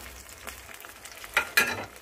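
Tomatoes cook in a pan with added water, giving a faint sizzle and a couple of sharp stirring clinks near the end, with no talking.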